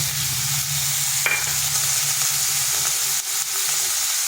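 Tomato frying with ginger-garlic and onion in a pan for a pumpkin and masoor dal dish, a close, steady sizzle with occasional stirring scrapes and clinks throughout.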